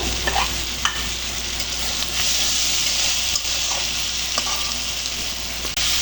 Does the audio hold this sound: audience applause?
no